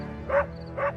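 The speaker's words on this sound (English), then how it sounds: "Albert's dog won't stop barking" A dog barking insistently, two short, sharp barks half a second apart, fairly close against a low background hum.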